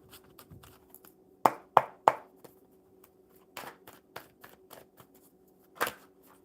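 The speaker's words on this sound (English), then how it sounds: "One more good shuffle, Ashley." A deck of playing cards being shuffled during a live card-reading stream, heard as a run of sharp riffling bursts and taps, several louder clusters spread across the clip, fairly close and with no talking.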